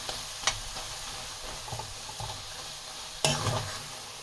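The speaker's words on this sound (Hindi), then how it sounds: "और हम सोया को थोड़ी देर स्लो फ्लेम पे और पकाएंगे।" Soya keema stirring and cooking in a pan on a slow flame, with soft scraping strokes at intervals and a low background sizzle, no talking.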